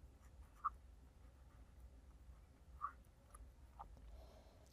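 A math problem is written out by hand, with faint, sparse scratches of pen on paper and a couple of sharper taps. The sounds are close and quiet, with no voices.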